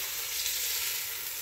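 Itadori shoots being stir-fried in olive oil in a home kitchen, a steady close hiss of sizzling oil filling the whole moment with no talking.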